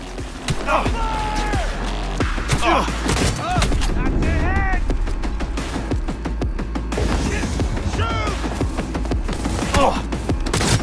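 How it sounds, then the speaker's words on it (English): Rapid gunfire with shock ammo in the video game Cyberpunk 2077 on PS5: dense bursts of sharp shots and thuds crackling throughout a firefight, with voices shouting over the barrage. "Stop hitting me with shock ammo!"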